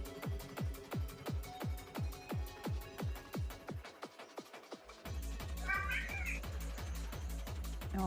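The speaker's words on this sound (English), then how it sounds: "Oh, I hear my cat." A cat meows several times in quick succession, close and fairly clear, after a run of regular rhythmic tapping; a voice talks faintly in the background.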